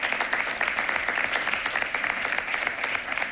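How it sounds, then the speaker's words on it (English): Applause at a school board of education meeting in an indoor hall, many people clapping steadily and evenly at moderate volume with no speech over it. "round of applause for our amazing girls indoor track and field team"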